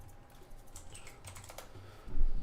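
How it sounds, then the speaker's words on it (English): Fast, light clicking of keys on a computer keyboard, a short burst of typing heard close and fairly quiet, ending in a slightly louder clatter. "I'll just try typing that in."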